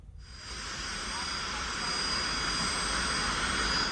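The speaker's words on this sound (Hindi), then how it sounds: "देखिए, 1, 2, 3, 4 हेलीकॉप्टर, 2 सेना के हेलीकॉप्टर हैं, 2 सिविल हेलीकॉप्टर हैं" Army and civil helicopters flying over a rescue operation give a steady, broad whooshing rotor and engine roar that builds slightly and holds, fairly distant, with no talking.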